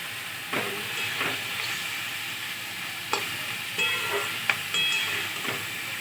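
Spice paste of ground coriander, cumin, chilli powder and ginger frying in a pan, a bright steady sizzle broken by several sharp spoon scrapes and taps, close and without speech.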